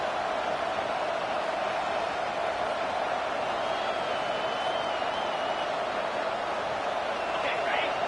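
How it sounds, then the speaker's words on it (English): A large video game stadium crowd at an American football game roars in a steady, dense wash of noise, constant and loud throughout, with no clear breaks. "Listen to this crowd just shaking the girders of this place"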